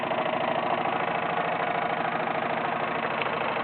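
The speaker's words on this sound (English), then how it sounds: "This particular Wilesco engine, the D21, exhausts through the chimney" A Wilesco D21 toy steam engine runs at a steady pace, exhausting through its chimney. Its fast rhythmic chuffing and mechanical whir are loud, close and continuous, with no voices.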